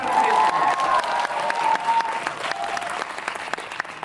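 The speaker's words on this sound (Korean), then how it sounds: "박찬욱 감독님 큰 박수 부탁드리겠습니다." A theater crowd at a Korean movie talk event for Alienoid Part 2 breaks into loud, sustained applause welcoming film director Park Chan-wook, dense clapping with faint cheering that tapers slightly toward the end.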